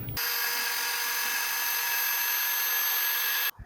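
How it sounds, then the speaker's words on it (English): A small desktop CNC spindle whines at a steady high pitch while cutting plywood, loud and close, starting and stopping abruptly. "this is just a little cheap desktop CNC, and it's going to allow me to make this cut"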